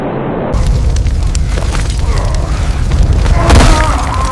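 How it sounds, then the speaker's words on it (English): AC-130 gunship fire pounding a Roman legion, heard as continuous heavy booming explosions and rumbling blasts with crackling debris, loud and dense, swelling toward the end. "The sound arrives after the explosion, thunder from a clear sky."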